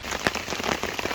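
Heavy rain drums steadily on the fabric of an Ozark Trail four-person dome tent during a storm, a dense, continuous patter with no voices.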